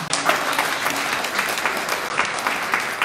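A church congregation applauds and cheers in steady, loud, continuous clapping that fills the room, with no pause.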